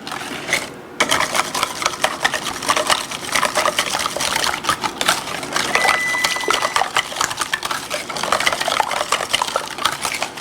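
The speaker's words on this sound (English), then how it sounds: "we're just gonna give this a whisk" Eggs are whisked briskly in a bowl for lemon bars, a rapid continuous rhythm of wet clicking and sloshing that starts after a brief pause and carries on closely to the end.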